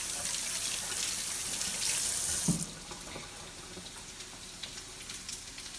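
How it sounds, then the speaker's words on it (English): Hands are rinsed under a running kitchen tap while making a salmon breakfast, a steady hissing stream of water that cuts off abruptly partway through, leaving quiet room tone with faint clinks. "Rinse my hands."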